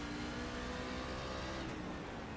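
A race truck engine in iRacing Maconi C-Fixed Trucks at Martinsville runs at full throttle out of a corner, giving a dense, steady engine roar that continues without a break and without voices.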